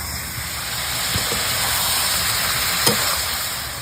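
Mutton pieces frying with onions in a pan give a steady, close sizzle throughout, with a couple of faint stirring scrapes and no talking.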